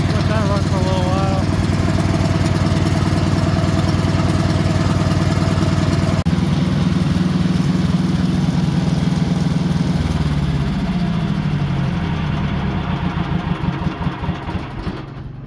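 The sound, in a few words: tractor engine starting and idling with choke and throttle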